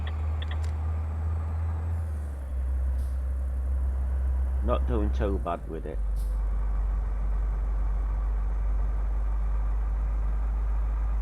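A heavily loaded truck with a small engine hauling 30 tons in a driving game, steady low engine drone throughout with a brief shift in pitch, while someone talks over it.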